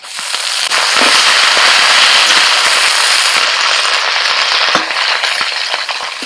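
Homegrown pea greens (motor shak) frying in oil after onion crackle and spit in a loud, dense, close sizzle with rapid popping, steady throughout.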